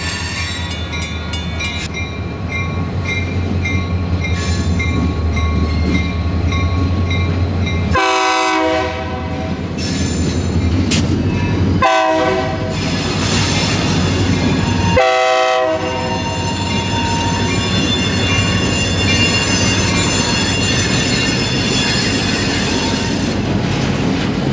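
Florida East Coast Railway freight train with boxcars passing loud and close, with a blaring horn, screeching wheels and a steady rumble of rolling cars that breaks off for short moments.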